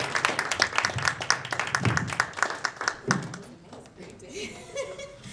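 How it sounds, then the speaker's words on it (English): An audience claps to welcome a speaker at a Black History open mic night at a library. The applause is moderately loud and scattered, with light laughter mixed in, and it thins out over about five seconds. "Can we welcome her again with one more big round of applause?"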